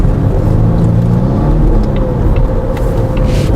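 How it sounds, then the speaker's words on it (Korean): Volvo V60 Cross Country, a 250-horsepower front-wheel-drive wagon, accelerating in automatic mode, with a steady, loud engine and exhaust drone heard from inside the cabin, continuous for the whole stretch with a faint rising tone. "배기에서 소리도 나네요."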